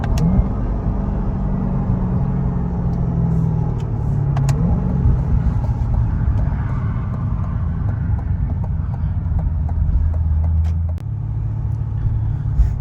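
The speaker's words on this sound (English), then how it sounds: "See what it sounds like when you downshift it." A 2022 Chevrolet Corvette C8.R, unmodified, rumbles loudly and steadily as it downshifts, its deep engine note stepping through gear changes with continuous low exhaust drone and no talk.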